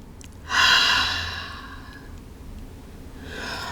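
A single long, breathy exhale through the mouth during a yin yoga session, loud and close at first, then fading over about a second and a half, followed by a softer breath near the end.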